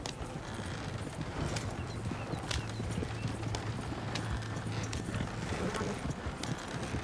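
Horse hooves clip-clopping in the video game Red Dead Redemption 2, a steady rhythmic trot of hoofbeats with a low rumbling under it, continuous and moderately close throughout.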